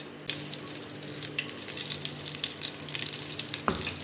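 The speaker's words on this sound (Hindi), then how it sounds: "पहले घी डालना है" Ghee sizzles and crackles steadily in a hot pan at the start of making chocolate kheer, a close, continuous frying hiss with a brief clink near the end.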